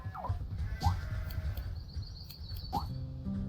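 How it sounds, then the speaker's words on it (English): Sheep bleat a few times in the video game Astral Tale, short rising calls spaced apart over a steady low game backdrop with faint chirpy tones above. "Hearing them sheep."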